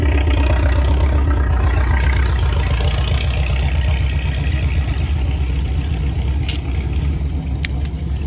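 Several roughly 100-year-old antique farm tractors, including a Farmall, warming up together outdoors while smoke rises, a loud steady idling engine rumble with mechanical clatter running throughout, a few faint clicks near the end.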